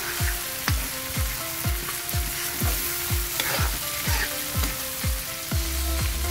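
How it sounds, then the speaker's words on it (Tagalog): Corned beef frying in a pan is stirred with a spatula, each stroke a scraping knock in a steady rhythm of roughly two per second over a constant close sizzle, with no talking. "Haluin natin. Para magsama-sama na sila."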